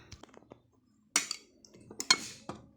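Kinilaw ingredients being mixed with vinegar and salt in a bowl, with sparse clinks and scrapes of a utensil against the bowl, a few sharp close knocks standing out among softer stirring sounds.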